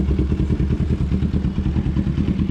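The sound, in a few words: Kawasaki motorcycle engine sound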